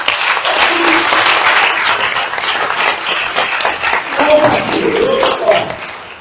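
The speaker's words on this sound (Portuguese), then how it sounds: "Vamos aplaudir o Senhor?" A church congregation applauds loudly and continuously for several seconds, a dense wash of clapping with a few voices calling out under it.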